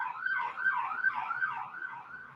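Ambulance siren wailing outdoors on an island, a steady rising-and-falling tone that stays loud and fairly near throughout, with no voices over it.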